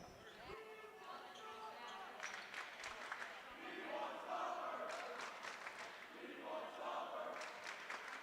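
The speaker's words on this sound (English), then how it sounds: "Crowd is chanting for Stauffer" At a high school basketball game, a crowd chants a player's name in rhythmic, rising waves that echo through the gym, with shoes squeaking and a commentator talking over the noise.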